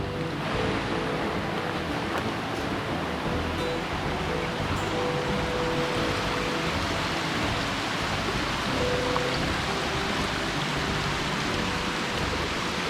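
Steady rain falling outdoors on a hillside trail, a dense, even wash of hiss that holds at a constant level for the whole stretch, with a faint low hum running underneath and no voices.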